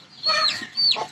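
An Aseel rooster chick gives two short, clear clucking calls close by, each a quick high squawk, with quiet background between them.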